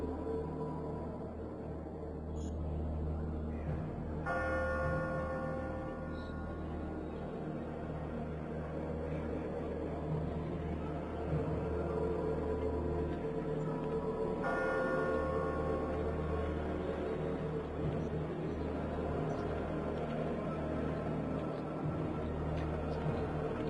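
A church bell tolls slowly inside a church, with two resonant strikes about ten seconds apart ringing out over a steady, dense background rumble.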